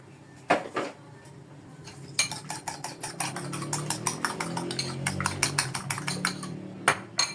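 Eggs are whisked in a bowl with black pepper added. A brisk run of rapid, rhythmic clinking strokes follows a couple of opening knocks and ends with a final tap.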